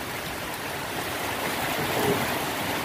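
Heavy rain pours steadily over a banana farm in the countryside, a dense, even hiss of falling water that stays loud and unbroken throughout, with no voices.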